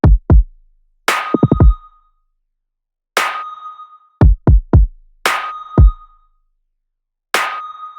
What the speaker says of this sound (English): This is how the kick and the snare sound together right now.